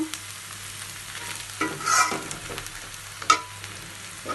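Taro leaves (kochu shak) cooking in a pan, with soft stirring scrapes and faint frying sizzle, a couple of sharper clinks of a utensil against the pan, close and fairly quiet with no talking.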